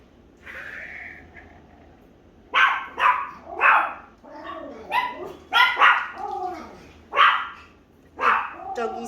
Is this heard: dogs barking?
yes